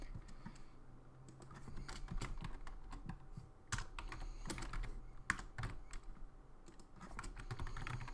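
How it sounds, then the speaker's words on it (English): Quiet keyboard typing, a quick irregular run of soft key clicks with brief pauses, close and alone against faint background hum. "And I know you can hear the typing,"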